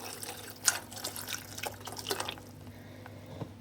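Water is poured and drips into a cooking pot while making shrimp tacos. There are brief splashes and droplets early on, and then it tapers to quiet.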